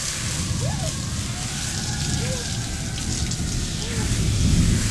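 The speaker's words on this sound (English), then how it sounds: "Now it's not raining as bad." Rain falls outside in a steady, full hiss that lasts the whole clip, with low rumbling underneath and a few faint voice sounds mixed in.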